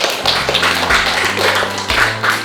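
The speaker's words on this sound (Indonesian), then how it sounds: "beri tepuk tangannya" Classroom students applaud a presenting student group, a dense, steady patter of many hands clapping close by that fills the whole moment at even loudness.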